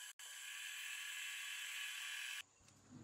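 A drill bores holes in a Royal Enfield Classic 350 exhaust silencer pipe during an exhaust change, giving a loud, steady high-pitched whine that runs for about two seconds after a brief hitch, then cuts off into quieter workshop noise.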